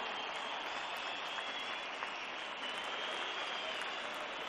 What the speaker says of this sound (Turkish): hepinizi bu muhteşem stadı alkışlamaya davet ediyorum